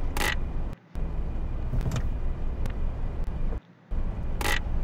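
A Mercedes truck driving in the City Car Driving simulator game gives a steady engine drone, broken by two brief dropouts and a few sharp clicks.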